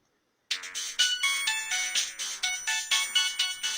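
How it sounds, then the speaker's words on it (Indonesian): A phone ringtone sounds for an incoming call, starting abruptly after a short silence, then repeating a bright electronic melody in a steady loop at close range. "Ada telepon masuk."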